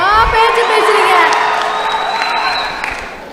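Large crowd of fans cheering, whooping and applauding at an awards event, a loud continuous roar with shrill shouts that stays strong throughout and eases slightly near the end.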